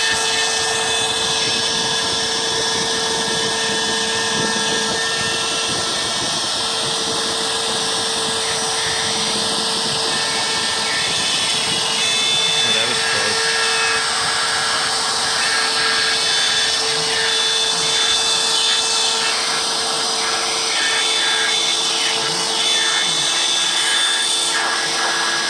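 A small X-Carve CNC router mills wood for beer flight boards. It gives a loud, steady whine and roar that runs the whole time without pause, close up, with no talking.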